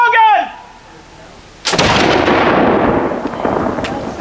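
An 18th-century wall gun fires at a fort garrison demonstration, one loud sharp blast with a long rolling echo trailing off, preceded by a shouted command.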